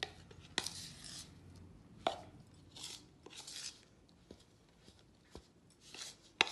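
Thick, heavy salt dough being stirred in a bowl, a quiet series of irregular scraping and knocking strokes with brief pauses between them.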